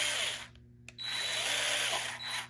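A HYCHIKA battery-powered screwdriver whirs as it drives a screw, two short motor bursts separated by a brief pause, close and fairly quiet with no one speaking.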